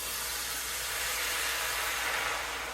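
A steady, hissing pour of boiling water into a pot of pasta, continuous and fairly close, with no speech.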